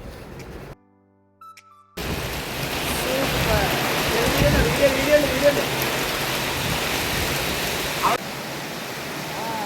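Heavy rain pours at a resort in Perintalmanna, Kerala, a steady, loud broadband hiss that starts abruptly after a short quiet gap and continues for several seconds.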